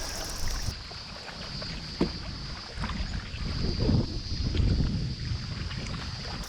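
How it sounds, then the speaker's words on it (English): Single paddle stroking a canoe on open water with a tailwind, soft splashes and dips every second or so under steady wind noise, no talk. "tailwind is sure making for some nice paddling. Nothing worse than fighting a headwind with a single paddle."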